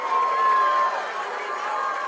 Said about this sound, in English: Applause to both gentlemen.